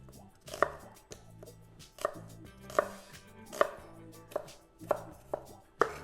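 A knife chops onions on a cutting board, a steady series of sharp, close thumps roughly every half second, with no talking.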